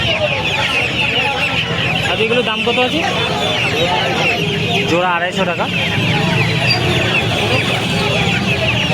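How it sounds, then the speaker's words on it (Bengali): At a poultry market, young chicks of an Australian breed keep up a constant cluck and cheep while people talk nearby over steady crowd noise. "অস্ট্রেলিয়া মুরগি বাচ্চা দেখাচ্ছি দেখুন"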